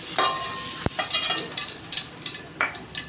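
Oil heating in a pan for Andhra-style sambar crackles with a faint, uneven sizzle, broken by a sharp metallic clink near the start and a few light scrapes, with no voices.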